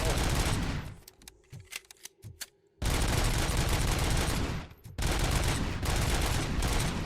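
Dense automatic gunfire from the video game RoboCop: Rogue City, loud sustained bursts broken by a short lull with a few separate shots before the firing resumes.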